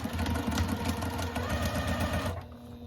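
A sewing machine runs steadily, stitching a quarter-inch seam to join a 6.5-inch rectangle of fabric onto a baby quilt top. The hum and rapid needle chatter stay close and continuous, then drop away near the end.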